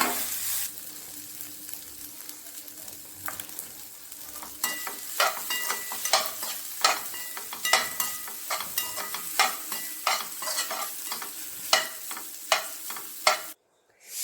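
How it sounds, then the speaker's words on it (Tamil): Cooked rice is mixed in a pan with gooseberry powder, salt and ghee, producing a steady run of repeated stirring scrapes and clinks that grow louder and more regular, then stop abruptly. "சாதத்தை போட்டு கலரி எடுத்து நெய் போட்டால் நெல்லிக்காய் பொடி சாதம் ரெடி"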